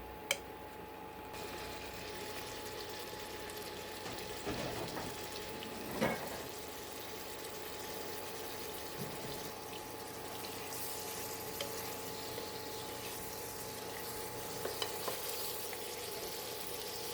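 Cabbage sautéing with turkey sausage and turkey bacon in a pan, a faint steady sizzle with occasional stirring scrapes and clinks over a low hum.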